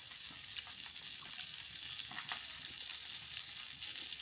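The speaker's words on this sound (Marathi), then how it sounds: "तर मित्रांनो अशा प्रकारे तर मासे फ्राय ऑलमोस्ट झालेले आहेत." Fish for a Malvani fish fry sizzles on a hot tava, a soft continuous crackle with faint spits and pops, steady and fairly quiet with no talking.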